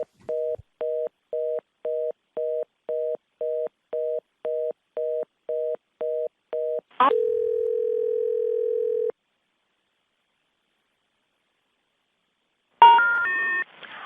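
Telephone line tones during a phone system fault on a board meeting call: a run of about a dozen short, evenly spaced beeps, then a steady tone for two seconds, silence, and a brief harsh burst at the end.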